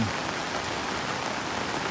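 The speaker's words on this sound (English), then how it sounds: "this is your normal day for rain in the Philippines" Heavy rain pours steadily during the Philippine rainy season, a dense, even hiss of drops drumming on surfaces, loud and close, continuing without a break and with no voices.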